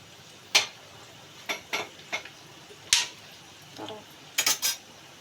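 Spoon scraping and clinking against a pan while fried onions are stirred together, heard as sparse, distinct metallic taps and scrapes in an irregular rhythm over a quiet background.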